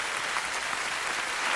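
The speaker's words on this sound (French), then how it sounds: "là on peut applaudir très fort" Loud, continuous clapping from a concert audience during band introductions on a TV music show, a thick uniform wash of applause with no talk over it.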